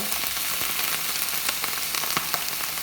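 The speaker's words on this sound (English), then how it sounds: "I'm gonna throw my shrimp right into my pan." Shrimp sizzle in a hot pan for shrimp fra diavolo pasta, a steady dense crackle with sharp pops scattered throughout, close and fairly loud with no talking.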